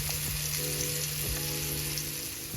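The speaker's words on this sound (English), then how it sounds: "Now for me, I like my steaks to be close to well done. So for me, I'm gonna sear my steaks" Steaks sear in a hot pan with a loud, continuous sizzle and crackle throughout, punctuated by faint scraping taps, with no talking over the frying.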